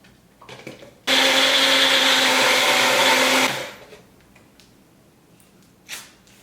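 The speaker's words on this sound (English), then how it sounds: "So now let's blend this." A countertop blender whirs loudly and steadily for about two and a half seconds as it blends thick protein pancake batter, starting abruptly and winding down, with quieter kitchen handling noises before and after.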